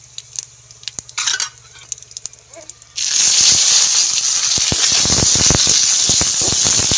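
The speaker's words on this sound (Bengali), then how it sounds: "অল্প গোটা জিরে ফোড়ন দিয়ে দিচ্ছি" Cumin seeds, a bay leaf and slit green chillies hit hot mustard oil. A few quiet clicks come first, then a sudden loud, steady, crackling sizzle fills the rest.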